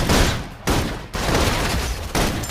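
Rapid, dense gunfire in the video game Love and Deepspace, a loud, continuous suppressive barrage with brief breaks between volleys.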